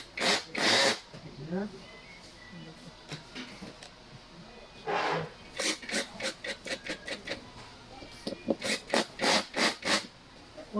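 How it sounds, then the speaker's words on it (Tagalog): Bolts being tightened during assembly of a black mesh swivel chair, with bursts of ratcheting, scraping turns in repeated short strokes, louder and quicker toward the end, and a brief spoken word early on. "we're going to tighten all the bolts that we installed."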